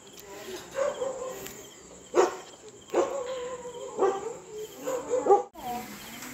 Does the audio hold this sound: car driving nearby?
no